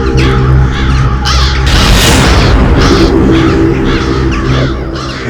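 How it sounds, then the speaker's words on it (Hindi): A large flock of crows caws loudly in a dense, overlapping chorus of harsh calls over a deep, booming rumble, continuous from start to finish with no talking. "इतने सारे कौवे इस वक्त?"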